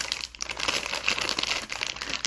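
Brownie mix package being pulled at and squeezed, giving steady crinkly rustling plastic noise throughout, moderately loud and close, with brief pauses, and no voices.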